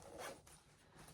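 A small zipper pouch being zipped in one quick, close, crisp run, then quieter fabric handling with no talk.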